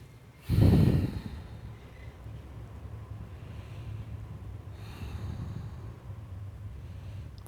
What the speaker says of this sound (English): Hear your breath flow